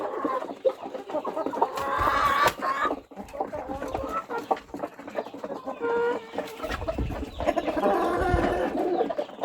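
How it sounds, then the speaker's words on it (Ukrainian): A flock of hens and roosters clucking and squawking steadily, several birds overlapping at close range with no talk. "33 курочки тут зараз і два півня."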